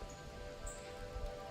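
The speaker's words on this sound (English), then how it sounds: "It's very cloudy and rainy out here." Rain falls outdoors on a cloudy morning, a faint, even patter with soft low rumbles and no voices.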